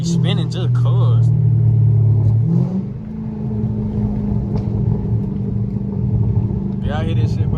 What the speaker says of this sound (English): You can hear that whole spinning. It's just that tire spinning.